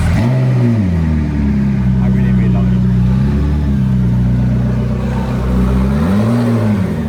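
McLaren P1 engine revving, a deep steady drone that rises and falls in a couple of swells, loud and close, with a person talking over it.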